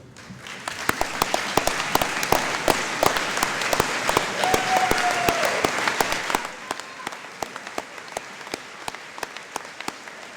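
An audience at a spring commencement ceremony applauds the faculty, staff and graduates. The clapping builds loud and sustained, then thins to scattered claps after about six seconds.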